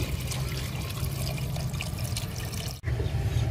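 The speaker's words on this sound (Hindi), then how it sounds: "अब हम इसमें डाल लेते हैं पानी।" Water poured steadily into a pot of fried dal lentils during village cooking, a continuous splashing pour lasting about three seconds before cutting off, then resuming faintly.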